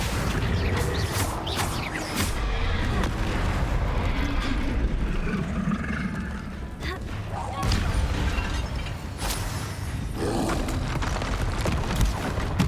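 Bombarda and Confringo spell explosions in Hogwarts Legacy, a rapid series of booming blasts and shattering crashes, loud and close, repeating in uneven bursts over a rumbling battle din.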